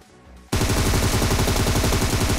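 Rapid automatic gunfire rattles in PUBG Mobile, a loud, sustained burst of closely spaced shots that starts abruptly after a quiet half-second and continues steadily to the end.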